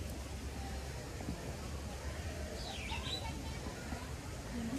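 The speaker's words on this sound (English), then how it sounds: "They've got a little bird feeder or something going over here." Small birds chirp faintly at a bird feeder in a safari park, with a brief call and a few soft notes rising over a steady background murmur of outdoor noise and distant voices.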